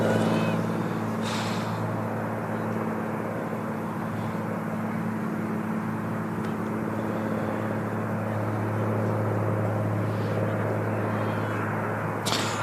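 Aer Lingus Airbus A320 airliner from Dublin on approach at Manchester Airport, a steady, continuous engine roar and rumble holding level throughout, moderately distant.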